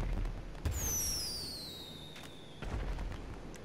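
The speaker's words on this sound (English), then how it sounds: "scroll over to firework launcher" Firework launcher fired in GTA 5 Online at a 4th of July yacht party, a sharp launch thump followed by a long descending whistling streak, then a second pop as it bursts, fairly loud over a low ambient background.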